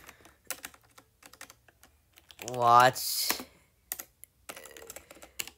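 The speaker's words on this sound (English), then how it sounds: "Bro, I'm typing so bad" Fast, uneven keystrokes clatter on a computer keyboard in short bursts close to the mic, broken by a brief spoken word and pauses.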